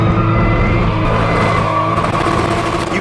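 A Toyota Supra with a bigger turbo does a tire burnout, its engine roaring loud and close over a continuous harsh squeal of spinning tires, steady for the whole moment.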